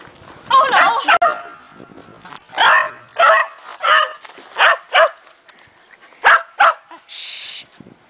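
A dog barks at a playground, about ten sharp, close barks in an uneven series, followed by a brief hiss at the end.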